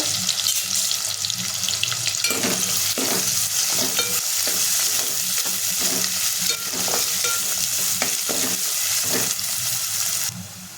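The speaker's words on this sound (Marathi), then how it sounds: "मध्ये आपण दोन मोठे कांद्यांनी चिरून घेतलेले ते आपण आपल्याला परतून घ्यायचे" Two large chopped onions sauté in oil with garlic, producing a steady loud sizzle throughout, with occasional stirring scrapes of a spoon in the pan, close up and without any talking.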